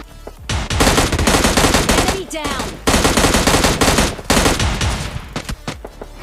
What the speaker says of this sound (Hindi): इधर उधर साइड से बहुत सारे फायरिंग के साउंड भी आ रहे थे